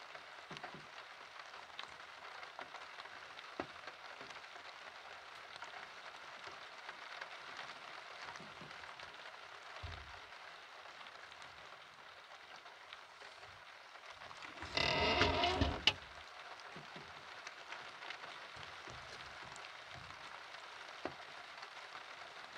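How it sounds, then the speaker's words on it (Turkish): Night rain falls steadily around a mountain house, a soft continuous hiss with scattered drops, faint and even throughout, broken by one brief louder rush of noise partway through; no talking. "Yağmurumuz da yağmaya başladı artık."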